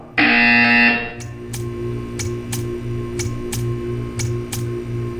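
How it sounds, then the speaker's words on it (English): A loud electronic buzzer in the game Portal 2 blares for about a second, followed by a steady mechanical ticking with regular sharp clicks over a low background hum. "You will hear a buzzer. When you hear the buzzer, stare at the art."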